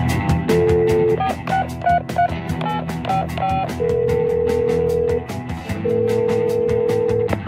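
A phone call rings in the quiz game You Don't Know Jack, repeated tonal ring pulses over a steady musical backing with rhythmic beats, loud and close, no talking.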